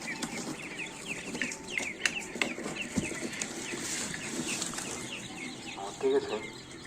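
Chicks and chickens cluck and cheep around a farmyard, a busy scatter of short calls and peeps at moderate distance, with a brief flutter near the end.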